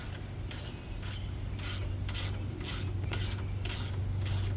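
A ratchet wrench tightens the last cylinder head bolt on a Tecumseh small engine, giving about nine evenly spaced rasping clicks up close over a steady low hum, with no talking.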